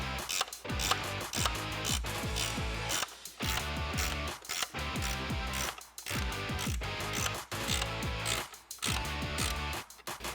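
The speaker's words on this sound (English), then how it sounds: "we can tighten that up with that 10mm ratcheting wrench" A 10mm ratcheting wrench tightens a bolt on a Jeep Wrangler JL 3.6L V6 intake, making close, rapid clicking runs broken by brief pauses as the handle swings back and forth.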